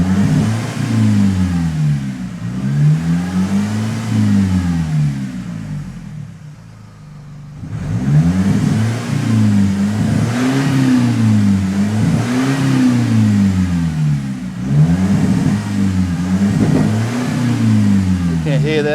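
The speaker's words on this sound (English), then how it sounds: "Now it should misfire. Generally at 3000," An idling Nissan X-Trail engine, remapped with EGR and DPF deleted, repeatedly revs up and falls back, rough and uneven, misfiring around 3000 RPM, with a brief dip in the middle before the revving resumes.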